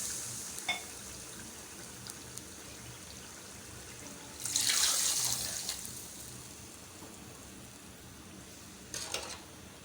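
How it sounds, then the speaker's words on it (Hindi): Water is poured into a pan of cooked masala to make the gravy for a beef kofta curry. A few seconds of pouring and splashing stand out over a quiet kitchen background, with a shorter splash near the end. "अब मैं इसमें अपना पानी शामिल करूँगी शोरबे के लिए।"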